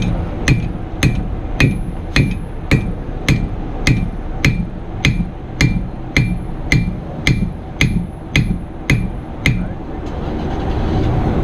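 A blacksmith at Uncle Hank's Knives in Sevierville hammers a hot knife blade on the anvil: about twenty sharp, ringing metallic strikes in a steady rhythm, close and loud, ending in a lower workshop hum.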